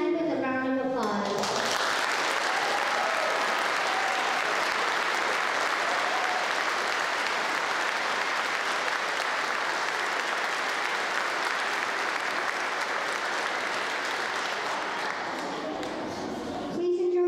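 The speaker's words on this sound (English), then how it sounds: "please stand and we will recognize you with a round of applause" A school gym audience applauds Army veterans standing at a Veterans Day ceremony, a loud, dense round of clapping that runs steadily for about fifteen seconds before tapering off.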